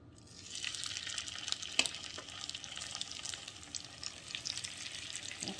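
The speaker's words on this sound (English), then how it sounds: "So now we're about to get her salmon in the skillet. And we're gonna put skin side down." Salmon fillet frying skin side down in a hot skillet gives a steady crackling sizzle with small pops, moderately close and continuous after a brief quiet start, with no talking.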